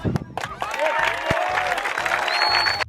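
A crowd bursts into applause and light cheering over a pulsing low beat, with a voice speaking briefly amid the clapping before it cuts off abruptly.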